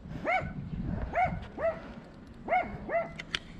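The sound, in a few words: dog barking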